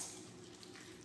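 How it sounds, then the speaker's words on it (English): Water poured into containers for a density demonstration, a quiet, steady trickling stream lasting about a second, heard alone. "Now, I'm going to pour water in these containers."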